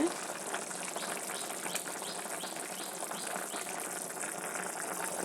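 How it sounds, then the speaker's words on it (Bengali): Continuous soft bubbling and hiss of a radish and mola fish curry simmering in a covered pot, even and unbroken throughout. "এই তো তরকারিটা ফুটে উঠেছে ফুটছে"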